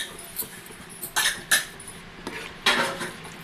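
Chicken biryani being stirred in a covered pot, with a few distinct metallic clinks and scrapes of a spoon against the pot between quiet gaps.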